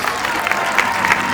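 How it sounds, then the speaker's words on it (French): Audience applause at a French film premiere screening in a Marseille cinema, a brief burst of steady clapping with some crowd murmur beneath, fairly close and even in loudness. "On peut l'applaudir, s'il vous plaît."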